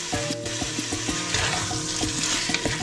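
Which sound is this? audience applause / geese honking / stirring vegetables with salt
stirring vegetables with salt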